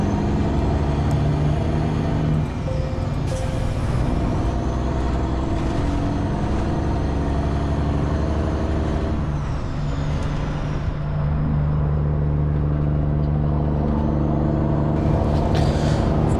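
Heavy truck engine laboring up a hill on a paved road, a steady loud low rumble with droning harmonics that shift as the gear and load change, with air brake hiss near the end and no talk.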